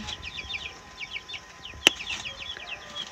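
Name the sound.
chickens and chicks clucking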